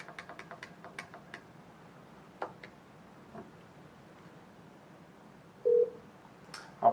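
Keypad presses on a Yealink T33G desk phone, a quick run of faint tones and clicks at the start, then a few scattered single presses and a short louder beep near the end.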